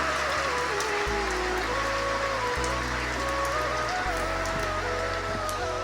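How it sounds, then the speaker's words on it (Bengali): Rain falls steadily at a home during a day-long downpour, a dense, continuous patter close by with a low hum underneath and no talk. "তা ভাই এখন বৃষ্টি হচ্ছে"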